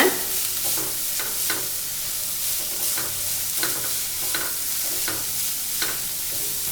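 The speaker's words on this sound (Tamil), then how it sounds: "முட்டைக்கோசு போட்டுக்கலாங்க. ரெண்டு நிமிஷம் வதங்கி வரட்டுங்க." Shredded cabbage sautéing in a pan for vegetable fried rice, a soft steady sizzle broken by regular scraping strokes of a spatula stirring the vegetables, close and fairly quiet with no talking.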